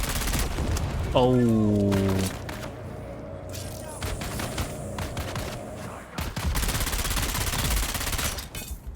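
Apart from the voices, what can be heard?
gunshots in the Dune Awakening video game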